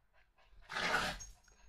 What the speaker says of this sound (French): Désolée, les chiens sont énervés.